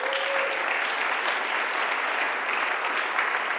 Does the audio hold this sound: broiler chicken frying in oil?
no